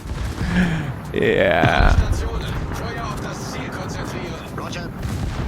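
A Royal Navy battleship's 406 mm guns fire in a video game with a heavy, booming salvo, followed by a long rumbling roll as someone talks over it.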